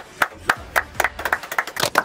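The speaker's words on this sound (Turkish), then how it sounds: "Teşekkürler. Alkış." A few people clap hands in a loose, sparse rhythm, sharp and close, the claps getting slightly quicker and more scattered toward the end.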